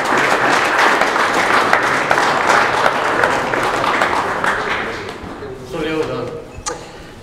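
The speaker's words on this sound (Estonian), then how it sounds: "Aplaus palun jätkata, kuni auhinnad on kätte antud." Audience applause at an award ceremony for an automotive trades vocational skills competition, a dense steady clapping that fills most of the clip before thinning out, with a voice briefly heard near the end.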